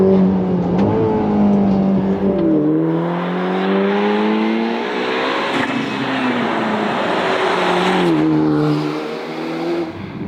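A Ferrari Roma sports car accelerates hard, its engine climbing through rising gear sweeps with brief dips at each shift, loud and close throughout, with faint tire noise underneath.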